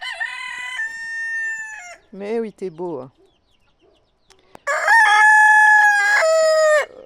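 A rooster crows loudly nearby, two long sustained crows with a short burst of clucking between them, while a person talks softly.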